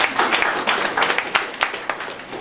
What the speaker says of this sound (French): On peut faire une offrande d'acclamation pour la chorale.